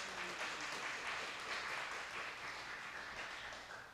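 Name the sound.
clapping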